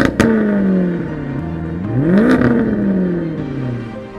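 A Maserati GranCabrio S with a 4.7-litre 460 bhp V8 revs loudly and close up, its note climbing, dipping and swelling again in steady, continuous pulls with no voices.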